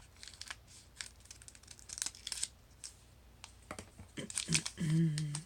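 A Magic: The Gathering card pack is torn and crinkled open up close, irregular ripping and rustling foil bursts building to a louder crumple at the end, with a voice speaking softly now and then.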